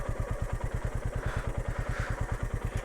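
Motorcycle on a ride to Willingdon Dam near Junagadh, its engine thumping in a steady rapid pulse, close and continuous with rattling clatter throughout.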